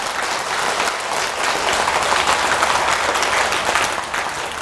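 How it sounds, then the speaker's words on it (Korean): A lecture audience breaks into sustained applause, dense clapping that stays loud and even for several seconds. "이럴 때 박수 나와야 되는 거 아닙니까?"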